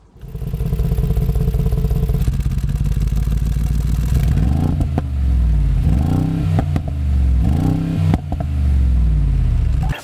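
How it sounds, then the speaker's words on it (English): A deep, throaty Mercedes-AMG G 63 V8 engine revs repeatedly, rising and falling in loud bursts close by, with no talking. "This V8 is monstrous. It sounds so crisp, throaty, and deep."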